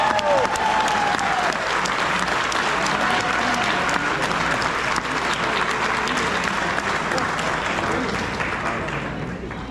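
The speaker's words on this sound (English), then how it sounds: "let's hear it one more time for Major General Lisa Howell" Loud, sustained applause from a large crowd at a military promotion ceremony, steady clapping that fades slightly toward the end.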